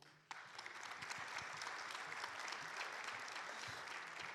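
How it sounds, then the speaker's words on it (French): An audience at a French real-estate and investment conference applauds a guest, a sudden onset of steady, dense clapping that holds evenly throughout, moderately distant. "Je vous demande de l'applaudir."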